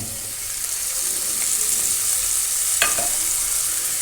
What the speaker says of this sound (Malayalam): ഇനി ഇതിൻ്റെ പച്ചമണം മാറുന്നത് വരെ ഒന്ന് ഫ്രൈ ചെയ്യുക